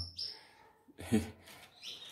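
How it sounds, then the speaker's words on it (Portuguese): A young melanic Belgian canary chick, about four weeks old, attempts its first warbling song, giving soft, thin chirps and twittering phrases close by in a quiet room, with a brief louder burst midway. "Esse melânico já está tentando gorjear com 28 dias."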